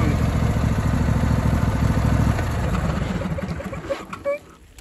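A John Deere D130 lawn mower engine idles steadily and loud at close range, a smooth continuous rumble that thins out toward the end as a few brief clanks come through.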